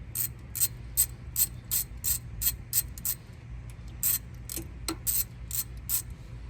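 A hand ratchet clicks in quick bursts while breaking loose an 8mm bolt on the oil pump of an S550 Mustang GT, with crisp, close metallic pawl ticks in repeated strokes and short pauses between them.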